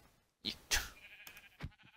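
A Minecraft sheep bleats in the video game, two or three short nasal bleats with a brief pause between, fairly close and alone without talk.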